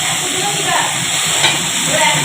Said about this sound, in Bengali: এই আদা বাটা রসুন বাটাটা ভালো করে আমি মিক্স করে ভেজে নেবো